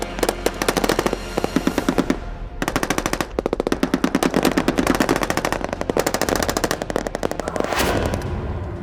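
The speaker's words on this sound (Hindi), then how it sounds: "horror machine gun fight" Loud, sustained machine gun fire in long rapid bursts, one short gap near two seconds, the rattling volleys continuing almost without pause, with no voices.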